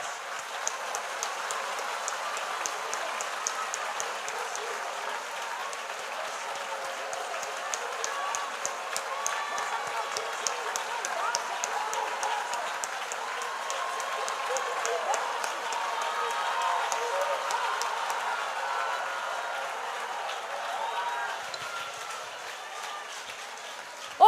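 A church congregation applauds in sustained, steady clapping at moderate distance, a soft, rain-like patter that continues evenly for over twenty seconds.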